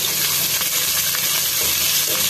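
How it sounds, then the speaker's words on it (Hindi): Onions frying in a hot pan with whole garam masala spices and bay leaves for a Pakistani restaurant-style beef curry give a loud, steady, close sizzle with faint stirring throughout. "देखिए व्यूअर्स ये प्याज डाल रहे हैं।"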